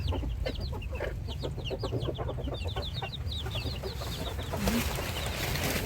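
Chickens cluck repeatedly in quick, uneven bursts at a countryside home in the morning, moderately close and fairly quiet, with no talking.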